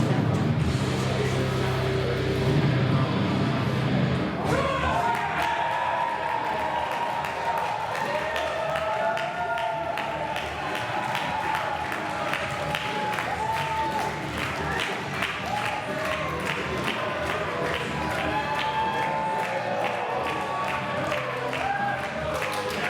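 A capacity wrestling crowd in Canterbury applauds and cheers steadily, a dense, continuous wash of clapping and voices filling the hall at moderate distance, with a muffled announcer-style voice early on.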